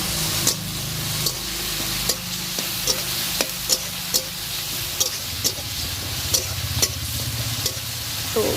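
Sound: onions and ginger frying and being stirred in a pan

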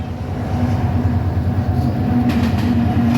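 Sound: train passing in fog

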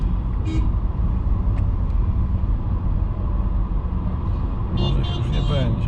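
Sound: cars driving by on a road in Giza

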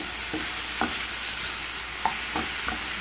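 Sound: stir-frying chicken wings with tomato and chili

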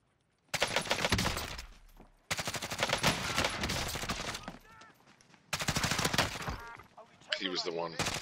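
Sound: gunfire at the Juggernaut in a video game

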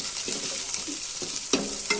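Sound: tempering with curry leaves sizzling in a pan

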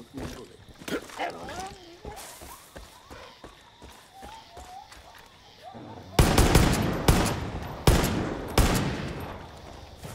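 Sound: gunfire at animals in Far Cry 5 video game

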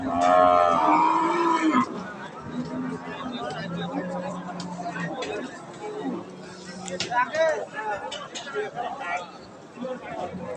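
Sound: cow mooing at a cattle market

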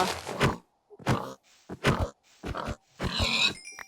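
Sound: pig oinking in video game

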